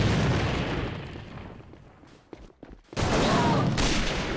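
A grenade going off in a combat video game: a loud, sustained wash of explosive rumble and gunfire noise, a brief dip with scattered pops, then a second heavy burst returning at full strength.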